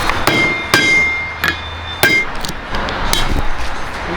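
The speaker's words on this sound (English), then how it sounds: "Hey Nico, that's how you put a U-joint in." A hammer driving a U-joint into place, about five sharp, ringing metallic strikes at uneven intervals, close and loud, with no talking.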